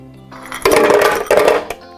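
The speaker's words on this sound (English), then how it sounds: "Next are my 6 ice cubes," Six ice cubes tumble into a blender jar, rattling and clinking together in a close, loud burst that lasts about a second, followed by a final clink.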